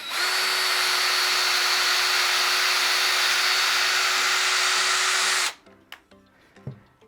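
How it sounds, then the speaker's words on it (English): A power drill bores a hole in a block of wood, whining steadily and loudly for about five seconds before cutting off abruptly, followed by faint clicks and handling noises. "Always be careful when we're drilling not to have our finger in front of the drill."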